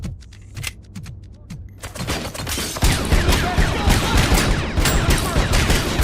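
Video game gunfire from a handheld gun, sparse single shots at first and then continuous rapid bursts that become dense and loud, with clicking in the background.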